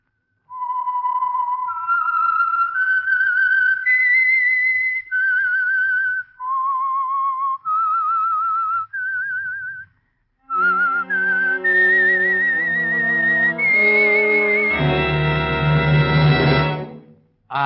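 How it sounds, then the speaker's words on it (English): A melodic whistled theme for The Whistler radio program plays as a series of clear, pure sustained notes stepping up and down. An orchestral swell then joins in and builds to a loud, full chord. "the signal to listen for is this whistle that identifies the Signal Oil program"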